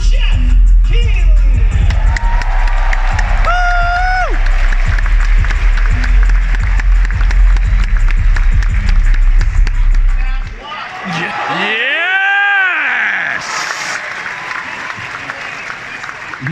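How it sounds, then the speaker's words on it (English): A large live crowd at Summer Game Fest applauds and cheers loudly and continuously, then the roar drops away abruptly into a musical fanfare with a booming presenter voice. "enjoy this live crowd reaction"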